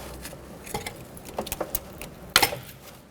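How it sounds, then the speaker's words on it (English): Trim tool prying the plastic ABS wire clip out on a 2006-12 Toyota RAV4 during a front strut replacement, a string of small clicks and taps ending in a sharper snap as the clip pops free, with no talking. "now I'm just going to use a trim tool to take the clip out for this ABS wire"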